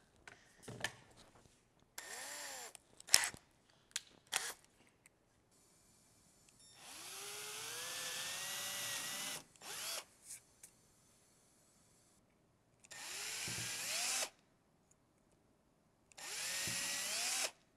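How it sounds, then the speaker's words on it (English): Several bursts of a hand drill boring holes for a backlit constellation project, with rising and falling whine, separated by short pauses and small clicks; close and fairly loud. "As soon as you're done drilling those holes"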